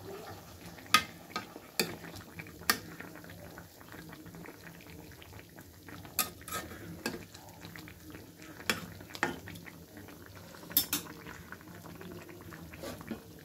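Cooked curry being moved from a wok into a separate pot, with sharp metallic clinks and scrapes of utensils striking cookware at irregular intervals over a soft background hiss.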